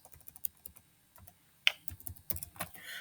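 Keys clatter on a computer keyboard while text is typed into a PowerPoint slide, heard as quick irregular clicks close to the microphone with a few louder taps and short pauses, no voices.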